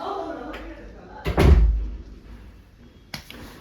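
A door being shut indoors gives a single loud thud near the middle, with faint knocks around it and people talking quietly.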